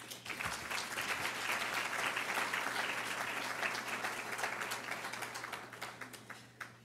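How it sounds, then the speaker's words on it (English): An audience at a gala claps for several seconds, the sound dense and sustained before thinning out into scattered claps at the end. "give them an additional round of applause"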